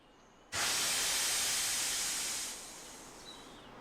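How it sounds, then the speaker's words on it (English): Loud, steady steam hiss from the Thomas the Tank Engine train bursts in suddenly and holds for about two seconds, then eases to a softer, lingering hiss with no talking. "Thomas is wheeshing out steam."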